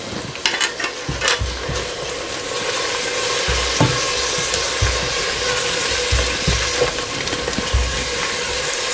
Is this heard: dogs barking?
no